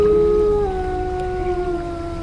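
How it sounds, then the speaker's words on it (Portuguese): A single eerie werewolf howl from a sound effect rings out loud and close, a sustained tonal wail that slowly slides downward over about two seconds. "logo todos nós ouvimos um uivo tenebroso encher a casa."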